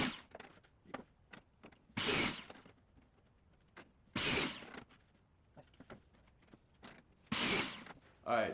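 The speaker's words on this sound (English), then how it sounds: "right there I just did 6 pocket holes in, what, less than a minute?" A Kreg Foreman machine drills pocket holes in wooden 1x2 slats in three short, loud whirring bursts a couple of seconds apart, with clicks and handling of the wood between them.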